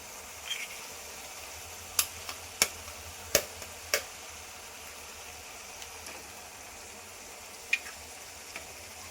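Egg frying in a pan with chilli powder, a low steady sizzle with a few sharp ticks and pops scattered through it, quiet and close, with no talk.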